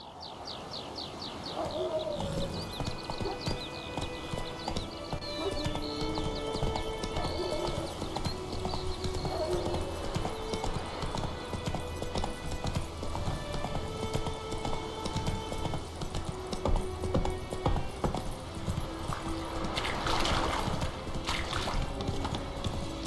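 Geralt's horse Roach gallops in The Witcher 3, a steady fast clip-clop of hooves throughout with game ambience, occasional bird calls and a brief whinny.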